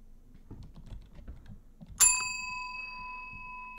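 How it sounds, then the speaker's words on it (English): A single bright bell strike rings out in the horror game Suite 776, following quiet clicking and tapping, its clear metallic tone sustaining and slowly fading. "The bell again."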